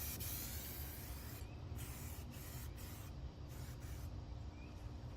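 Spray paint can laying a second coat on a vehicle chassis outdoors, a continuous close hiss that runs almost without break, briefly dipping a few times as the nozzle is eased off.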